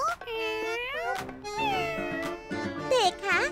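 Cartoon cat meowing repeatedly in a Vietnamese-dubbed animated show, a series of drawn-out, pitch-bending mews filling the scene alongside a nearby voice.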